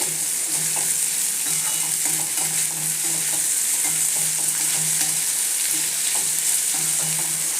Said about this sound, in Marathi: मोठ्या गॅसवरती ही भेंडी व्यवस्थित तेलात परतून घ्यायची